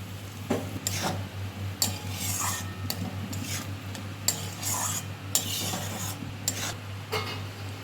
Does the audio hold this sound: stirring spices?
yes